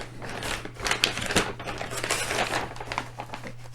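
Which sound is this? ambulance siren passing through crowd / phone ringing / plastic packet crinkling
plastic packet crinkling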